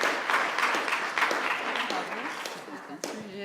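An audience at a doctoral poster prize ceremony applauding the winner, steady moderate clapping from a roomful of people that fades slightly toward the end, with a voice speaking over it.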